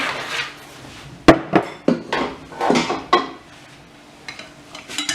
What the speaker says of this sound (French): on mélange tout ça